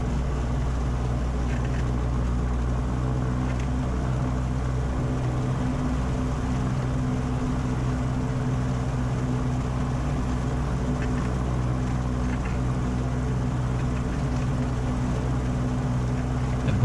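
A Streak Shadow microlight aircraft taxis out across dry grass toward runway 06, its engine and propeller droning steadily and loudly up close, with no break in the sound.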